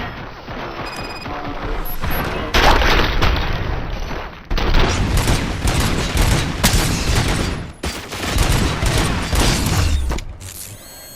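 Sustained heavy gunfire in the shooter game Robocop: Rogue City, loud rapid bursts and mechanical clatter in dense overlapping waves with brief breaks, with no talk.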